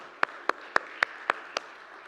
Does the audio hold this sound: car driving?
no